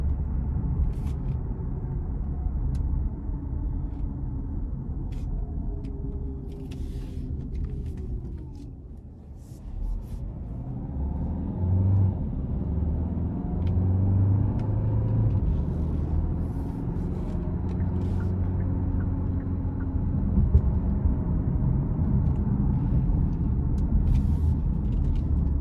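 A 2025 Hyundai Santa Fe Hybrid SEL accelerating in sport mode onto an interstate, heard from inside the cabin as a steady low rumble of engine and road noise that dips briefly and then swells and holds.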